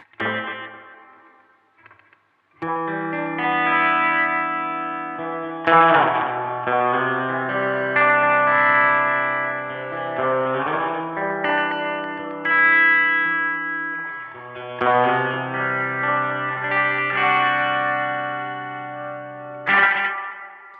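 Sustained, chord-like instrument tones pass through a BOSS RE-20 Space Echo set to playheads 1 and 2 with reverb, producing short and medium repeats that smear each phrase into a lush, echoing tail, loud and alone.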